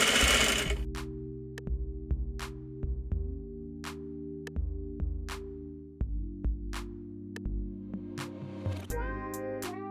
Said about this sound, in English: Sew your waistband to the top edge of your pants using 1/2 inch or 13mm seam allowance.